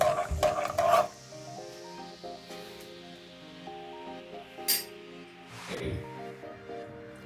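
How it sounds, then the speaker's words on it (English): Dhokla batter being mixed by hand, with a burst of wet scraping strokes in the first second and another brief swirl later, set against steady background music. "mix it well"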